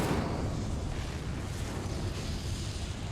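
The Incendio fire spell cast in the video game Hogwarts Legacy, giving a steady, broad roaring whoosh of flame, fairly loud and sustained throughout.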